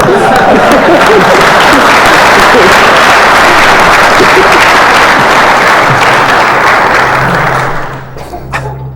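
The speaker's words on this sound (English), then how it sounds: "Claps." A live audience at the Summer Games Done Quick 2014 speedrun marathon breaks into loud, sustained applause and cheering that fills the room, with voices mixed in, before it fades out near the end.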